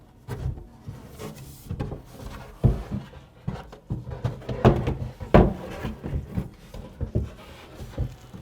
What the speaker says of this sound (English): After the shelf pins are in, we will now install the actual shelf.